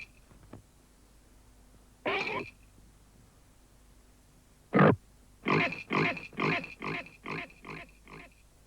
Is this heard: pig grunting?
yes